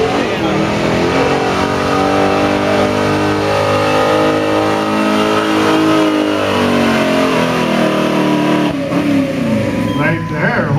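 A 1970 Ford big-block hot rod truck revs hard at a truck pull, its engine pitch climbing and wavering, loud and close, with an announcer talking over it.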